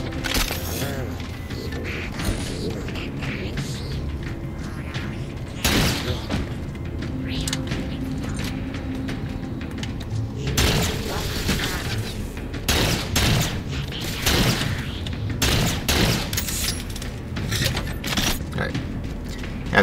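Beam rifle and other weapon fire during a Legendary Halo 4 campaign run on Requiem, heard as sharp, loud bursts and booms scattered irregularly over ongoing game noise and mechanical clanks.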